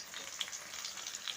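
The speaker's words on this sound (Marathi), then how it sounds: "तर हे बांगडे जे मी भाजत टाकले आहेत ना" Mackerel frying Malvani style in hot oil in a pan, a soft, continuous sizzle with small crackles and pops, heard alone and close.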